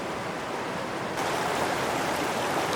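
Water flows across a small fork of Alder Creek on a backcountry trail near Evolution Lake, a steady broadband rush that grows louder partway through and continues without a break.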